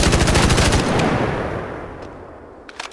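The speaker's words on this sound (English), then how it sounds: "Let me dump some ammo so I can reload one more time." A rapid burst of automatic gunfire from a weapon in Arc Raiders, a video game, empties the magazine with loud, closely spaced shots for about a second, then fades into a decaying echo, followed by a few faint clicks.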